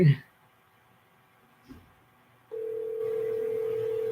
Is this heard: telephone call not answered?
yes